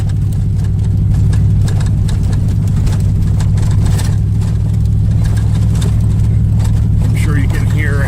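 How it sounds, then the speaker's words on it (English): A car with a loud exhaust climbs a steep uphill road, a heavy, steady low engine drone running throughout, with loose items knocking and rattling inside and a voice talking over it. "You can hear how everything's banging around and how loud my exhaust is."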